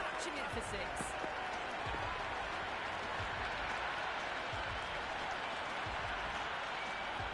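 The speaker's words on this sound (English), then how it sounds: "the crowd have joined the party. It's pretty noisy at the ground." Crowd noise at a T20 World Cup cricket match between India and South Africa in an Ahmedabad stadium, a dense, sustained roar of cheering and clapping filling the whole stretch, with a commentator talking over it.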